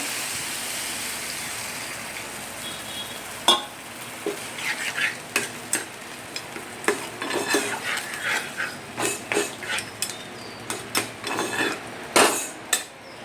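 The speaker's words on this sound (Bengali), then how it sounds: "জল দিয়ে দিলাম, দিয়ে মাছগুলো ছেড়ে দিলাম।" Water and pabda fish go into a hot cooking pan, setting off a steady frying hiss broken by a series of sharp clinks and scrapes of a utensil against the pan; no one speaks.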